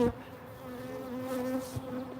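Honeybees buzzing close by during a honey harvest, a steady droning hum with a few individual insects passing near.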